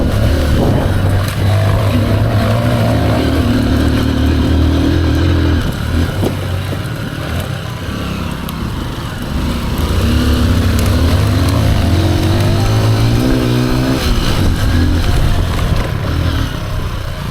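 Honda XR150L trail motorcycles ride fast, their single-cylinder engines droning loud and close with rising and falling revs as the bikes accelerate and shift, a steady roar running through the whole stretch.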